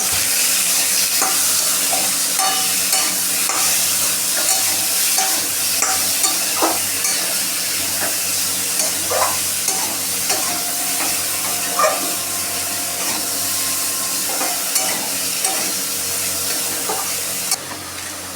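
Potato and pointed gourd fry in a pan, a loud, constant sizzle close by, with frequent scraping and tapping of a spatula as the pieces are turned. No voices.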